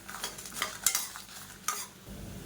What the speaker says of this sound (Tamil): இப்போ நல்லா வறுபட்டதும் ஒரு 10 வரமிளகாய் சேர்த்துக்கலாம். இது கூடவே சேர்த்து இதையும் நல்லா வறுத்துக்கலாம்.